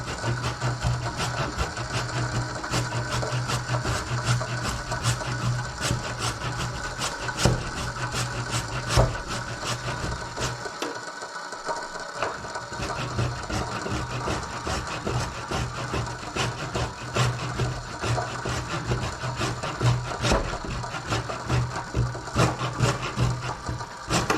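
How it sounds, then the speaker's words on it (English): Food rubbed against a kitchen grater for lemon couscous, rapid rhythmic scraping strokes repeating close up with a brief pause midway, no talking. "Now grating this is going to take some time."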